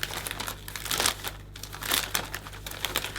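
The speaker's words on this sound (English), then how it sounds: "just gently just catch the top of your cellophane, and then we can take the bag and we can slide this inside" Cellophane wrap crinkling and rustling as it is gathered and slid into a gift bag, a close, quiet run of irregular crackles with no talk.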